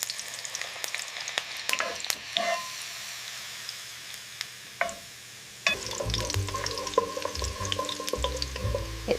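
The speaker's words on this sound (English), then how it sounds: "Frying the garlic until golden." Garlic sizzles in a pan of hot oil over medium heat, soft at first, then a loud, steady frying crackle with occasional stirring scrapes.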